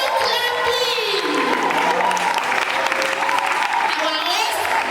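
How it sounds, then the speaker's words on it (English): A conference audience claps continuously while a voice speaks over a microphone, the applause forming a dense background under the talking. "Continue clapping. Keep on clapping."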